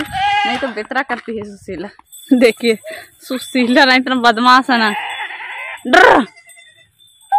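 A goat bleats several times, close and loud, in a village farmyard, its cries interleaved with someone talking throughout.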